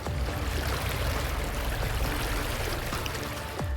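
The Río de Oro in sudden flood carries branches and debris, a dense, steady rushing roar of river water that holds constant throughout.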